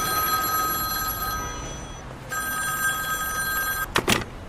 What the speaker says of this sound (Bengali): টেলিফোনটা বেজে উঠল